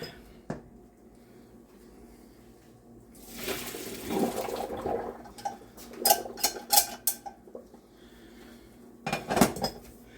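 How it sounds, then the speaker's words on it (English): Cooked food drained from a pot in a home kitchen: a rush of pouring water followed by a series of sharp metallic clanks and knocks of the pot and lid, fairly close and with no speech. "let me get this drained"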